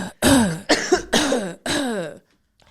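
A voice imitates a cough, four short rhythmic bursts in quick succession with pitch swoops, close and loud, then silence.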